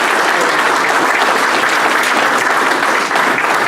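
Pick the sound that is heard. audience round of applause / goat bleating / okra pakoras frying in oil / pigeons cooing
audience round of applause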